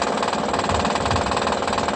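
A 2009 Honda Pilot 3.5 engine with a noise fault runs up close, giving a steady loud rattling, knocking drone with a fast repetitive pulse and no talking.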